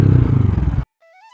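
A loud motorcycle engine sound effect in an animated story, a rough throbbing putter lasting under a second that cuts off abruptly and is followed by brief light chime-like tones.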